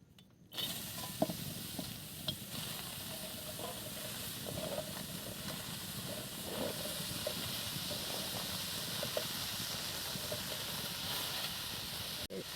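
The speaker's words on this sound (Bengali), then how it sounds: "ডেকেগুলো এবার সেদ্ধ করে নেব" Taro stalks simmer in a pot with a steady hiss and bubbling that starts abruptly and then holds level and close, with a few light clinks of utensils.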